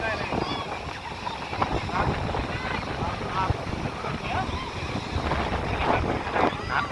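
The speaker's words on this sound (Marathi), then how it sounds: "हवा भरपूर आहे." A strong wind sweeps across Guhagar beach on the Konkan coast, producing a constant loud rushing buffet mixed with surf. People talk beneath it.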